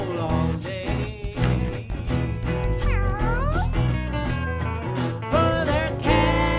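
Drawn-out meowing and caterwauling cries rise over a loud, steady band backing throughout a song, repeating with sliding pitch.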